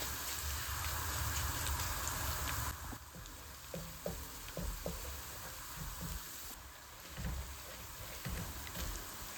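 Garlic paste fries in a little hot oil until golden, a soft, steady crackling sizzle like light rain, with a few quiet utensil taps and stirs partway through.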